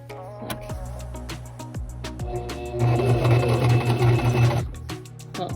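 A sewing machine stitches down the facing of a cowl neck, running in short bursts at first and then in one longer steady run, loud and close with no talking.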